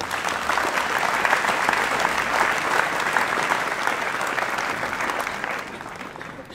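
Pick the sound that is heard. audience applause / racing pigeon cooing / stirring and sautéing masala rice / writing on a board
audience applause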